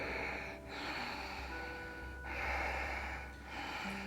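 Breathing during a back-flexibility yoga class: three slow, broad breath cycles of inhaling and exhaling, close and steady, with no talking.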